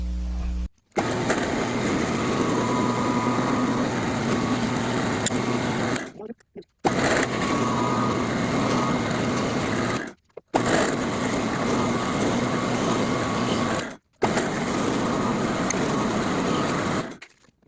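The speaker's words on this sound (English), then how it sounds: "I'm going to take all 4 of my boards over and to the drill press and clamp them down and drill" Loud, steady mechanical whirring from a drill press boring through four clamped wood boards, running in four long bursts with brief pauses between them, close by.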